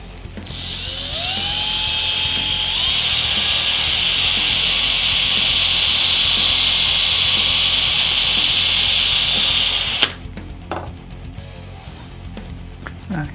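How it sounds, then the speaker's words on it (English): A power drill bores a pilot hole in a guitar headstock with a loud, high whine. The pitch rises as the motor spins up, then holds steady for about ten seconds before stopping abruptly, followed by light handling noises. "So that's the first pilot hole that I'm going to drill"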